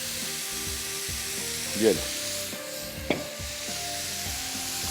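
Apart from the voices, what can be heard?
chopped garlic and beef frying in oil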